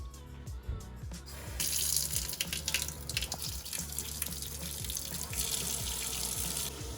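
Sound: water running from kitchen sink tap

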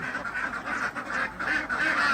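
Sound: laying ducks quacking on a farm

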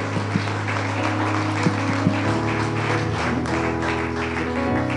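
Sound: applause, clap offering in church

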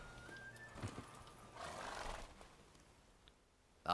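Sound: horse neighing in the video game The Witcher 3

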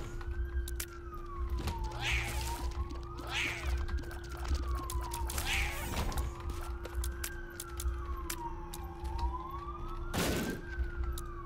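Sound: sirens in The Binding of Isaac Rebirth video game

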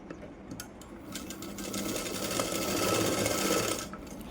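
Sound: sewing machine stitching hook belt onto blouse cloth

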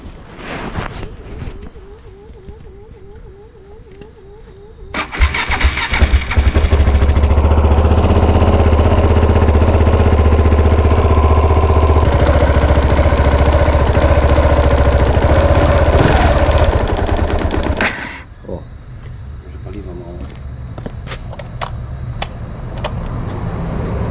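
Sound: KTM Duke 690 supermoto motorcycle engine starting and idling

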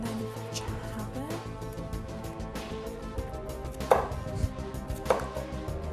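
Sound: chopping vegetables on a cutting board

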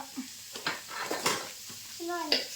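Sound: onions frying in a pan

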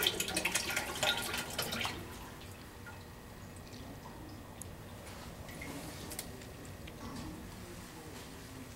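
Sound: oil dripping into drain pan after removing oil filter

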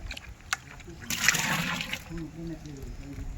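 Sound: water being poured into mixture

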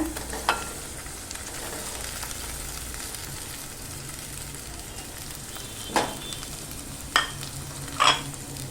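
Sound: potatoes added to frying cumin and chillies, stirred

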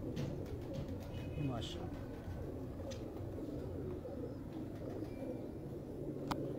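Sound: teddy pigeons cooing

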